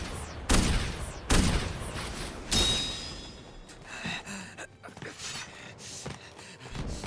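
Gunshots in the video game Tales of Arise, two or three loud sharp reports close together at the start, followed by a ringing tail and quieter scattered game effects.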